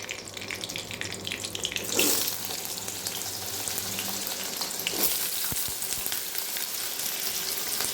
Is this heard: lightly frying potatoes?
yes